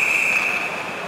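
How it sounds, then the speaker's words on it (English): A referee's whistle at an NHL ice hockey game between the Colorado Avalanche and New York Rangers in New York City, one long steady blast under loud arena crowd noise throughout. "And we got a whistle, hand pass called"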